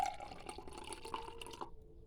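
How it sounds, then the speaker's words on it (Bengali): Lukewarm water pours steadily for nearly two seconds with a light trickling, splashing texture, then cuts off abruptly into near silence. "তারপরে এখানে আমি কুসুম গরম পানি মিশাচ্ছি"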